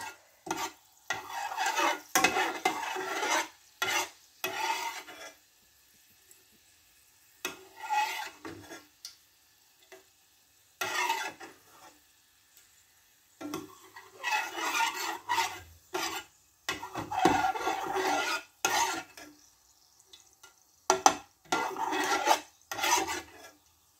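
Bursts of crackling and sizzling from cloves in hot oil come and go, mixed with scraping stirring sounds and short quiet pauses between them.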